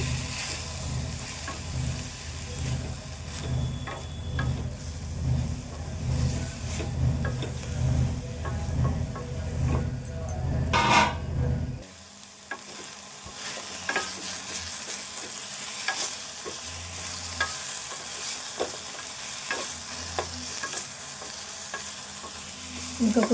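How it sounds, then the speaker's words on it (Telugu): Coriander frying with bottle gourd pieces in a pan for sesame chutney, a steady close sizzle with repeated stirring scrapes, dropping to a quieter, thinner crackle partway through. "ఈ మొక్కలతో పాటు కొత్తిమీర కూడా వేగుతుంది"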